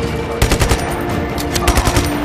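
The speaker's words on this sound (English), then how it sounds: "Stop shooting at me!" Rapid automatic gunfire from enemies in Just Cause 3 in dense, loud bursts over a steady background hum of the game.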